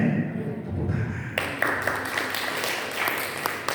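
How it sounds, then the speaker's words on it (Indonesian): Congregation applause breaks out during a church sermon, a dense, steady clapping wash that starts abruptly and carries on at an even level to the end. "Tepuk tangan."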